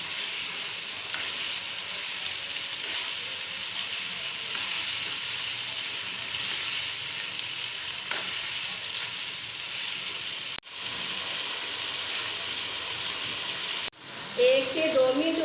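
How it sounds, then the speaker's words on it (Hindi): Boiled beef frying in a pan with ginger garlic paste, a loud continuous sizzle with occasional stirring scrapes, two brief dropouts, and louder clattering toward the end. "अब इसे अदरक लहसुन के पेस्ट के साथ अच्छी तरह भूनना है।"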